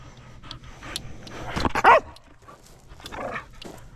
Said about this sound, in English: No barking. It's loud.